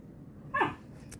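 A puppy gives a single short bark or yip somewhere in the background, brief and moderately faint against a quiet room.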